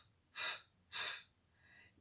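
Two clear breaths drawn in during a Pilates movement class, each about half a second long and evenly spaced, close and fairly soft, followed by a fainter, quieter breath.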